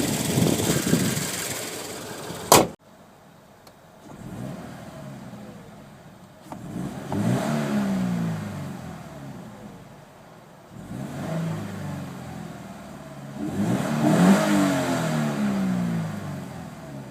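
A 2013 Subaru BRZ's 200-horsepower boxer engine revs in repeated swells, each climbing and fading back to a lumpy, uneven idle with a slightly misfire-like burble; a sharp click precedes the first rev, and no one speaks.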